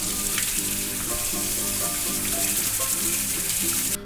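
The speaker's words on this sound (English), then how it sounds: "Gonna rinse it off for a little bit." Rice being rinsed under running water makes a constant close hiss and patter of splashing that continues without a break for several seconds.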